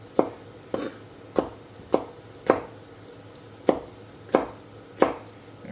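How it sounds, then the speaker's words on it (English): A knife chops pepper into rough bite-sized pieces on a cutting board for chorizo and shrimp rice, giving about nine sharp, evenly spaced thuds at close range with no talking. "We'll give our pepper, again, a quick rustic cut, quick rustic chop."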